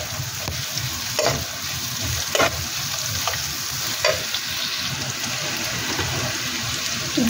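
Garlic paste sizzles steadily in a hot pan for chicken bukhari, with a few louder scraping stirs of a spoon breaking through the frying hiss; nobody speaks.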